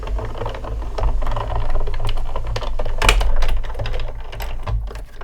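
A 3D embossing folder is cranked through a die-cutting machine, producing a steady, close-up grinding rattle with clicking crackles and a louder crunch partway through, continuous for several seconds.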